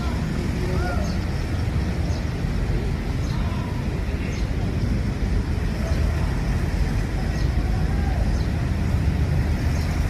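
An NPM V21 bus driving fast in Indonesia, a constant loud engine drone and road roar from inside the moving coach, with faint voices beneath.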